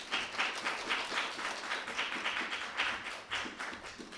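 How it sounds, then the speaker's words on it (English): Audience applause at an evening sharing gathering, steady dense clapping from a small crowd, moderately distant and even throughout with no voices. "Can we get a round of applause for that beautiful sharing"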